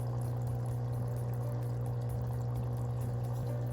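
A MaxKare foot spa massager churns its water into bubbles, giving a steady, close-up bubbling over a constant motor hum that holds even throughout, with no talking.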